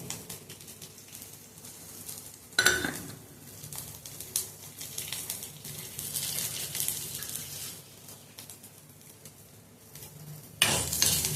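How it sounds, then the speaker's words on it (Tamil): Four dried red chillies frying in a pan for ridge gourd chutney, a low crackling sizzle with intermittent stirring scrapes and two sharp metallic clanks of utensil on pan; no voices. "வரமிளகாவை ஃப்ரை பண்ணிக்கலாம்"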